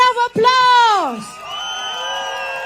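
At a Sembawang election rally in Singapore, a large outdoor crowd whoops and cheers for the candidates, with a loud rising then falling voice over the noise before sustained cheering continues.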